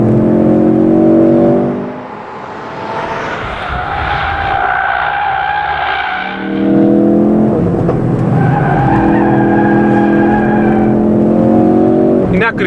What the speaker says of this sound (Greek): Το μοτέρ ακούγεται φανταστικά και αυτά τα σκασίματα είναι σκέτη τρέλα.